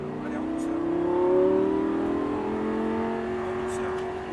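A Lamborghini Gallardo accelerating on the Paul Ricard circuit, engine note rising and swelling loudly, then holding a steady high whine from inside the car.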